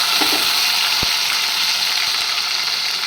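A steady, loud sizzle of tomato pieces frying in hot oil, with one faint knock partway through.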